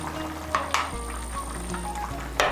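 Ghee and garam masala powder fry in a pan for a vegetarian potato and pointed gourd curry, with a steady sizzle broken by a few clinks and scrapes of a spoon stirring against the metal.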